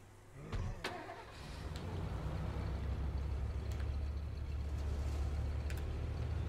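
A car in the State of Decay video game starts up with a short burst of engine noise, then settles into a steady, loud engine drone as it drives off, running continuously with no talking.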